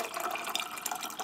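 Water runs and splashes steadily into a bowl of cashew nuts set to soak, a continuous close pouring hiss with small bubbling, no voices.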